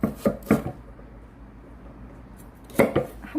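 A knife cuts through cabbage on a cutting board while cabbage kimchi is being made. Two sharp crunching chops come close together, then a quiet pause, then more crisp cuts.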